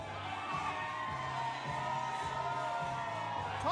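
Crowd at a professional wrestling event between Pittsburgh and Cleveland, a steady roar of distant cheering and whoops with sustained shouted tones, a swell toward the end.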